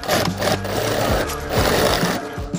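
A sewing machine runs in short bursts while stitching a dhol bag, its rapid mechanical chatter loud and close with brief pauses between runs.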